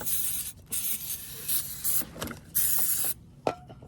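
Brake cleaner sprays from an aerosol can onto rear brake parts in several short hissing bursts, each about half a second, close up, with brief pauses and a small clank between them.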